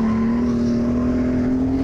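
An Alfa Romeo 156 GTA race car driving on a track, its engine holding a loud, steady drone close to the microphone throughout, with no talk over it.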